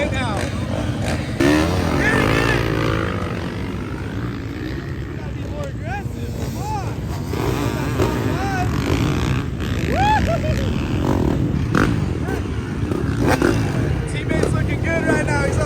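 Two-stroke dirt bike engines race at a Surfercross track, their rising and falling whines and revs continuous in the background beneath loud, excited talking.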